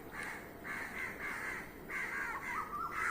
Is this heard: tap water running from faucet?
no